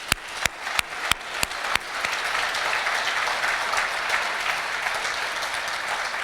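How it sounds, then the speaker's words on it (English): Applause at an awards dinner: a few sharp, separate claps at first, then the audience joins in a steady, full round of clapping that holds evenly to the end. "let's honor her with a round of applause"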